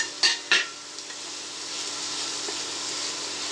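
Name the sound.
egg stirred into masala in a frying pan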